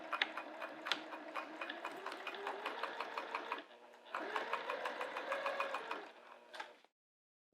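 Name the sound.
sewing machine top stitching a zipper pouch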